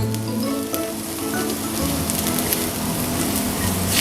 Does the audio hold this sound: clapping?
no